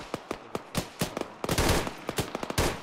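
Automatic fire on a bunker in an Arma military game, a rhythmic string of punchy shots with a dense rattling burst midway, moderately close and without talk.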